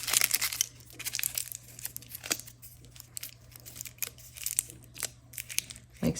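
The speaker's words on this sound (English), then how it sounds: "take a piece of foil. I have different sizes here, and fold it over your thumb to hold it in place." Aluminium foil crinkles and crumples in close bursts as it is folded over a thumb during a gel polish removal at a nail table, with scattered crisp rustles throughout.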